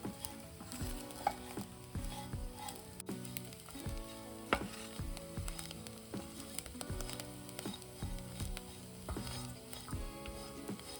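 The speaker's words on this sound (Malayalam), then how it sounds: "ബീഫ് മൊരിയാൻ തുടങ്ങിയിട്ടുണ്ട്" Spicy Kerala kanthari beef fry sizzling in a pan as a utensil stirs and scrapes it in steady repeated strokes, close up with no voices.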